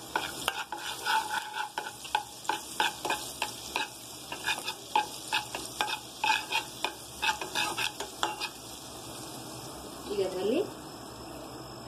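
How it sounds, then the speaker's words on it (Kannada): Butter and oil sizzle in a pan over a gas flame for capsicum egg bhurji, with steady frying hiss and a dozen rhythmic stirring scrapes up close. A brief voice is heard near the end. "ಈಗ ನಾನು ಗ್ಯಾಸ್ ಆನ್ ಮಾಡಿ ಒಂದು ಪ್ಯಾನ್ ಇಟ್ಟಿದ್ದೀನಿ ರೀ ಅದಕ್ಕೆ ಸ್ವಲ್ಪ ಬಟರ್ ಹಾಕೋ ರೀ"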